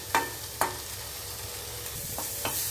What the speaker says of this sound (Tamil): நான் இன்னும் கொஞ்சம் வதக்குறேன்